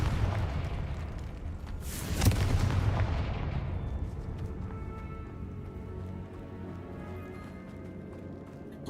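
A Confringo blasting curse in the Hogwarts Legacy video game goes off as a heavy, booming explosion. A loud blast is followed by a long, rumbling decay and crackling debris.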